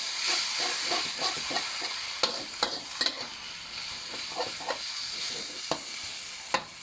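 Pad see ew noodles stir-fried in a pan, with a continuous hiss and sizzle broken by repeated scraping strokes and sharp metallic clacks of the spatula.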